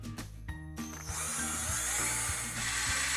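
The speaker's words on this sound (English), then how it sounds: "We need a tube cutter." A tube cutter near the listener cuts PE plastic pipe for a hula hoop in a run of rapid ratcheting clicks with a steady mechanical grind, and no voices.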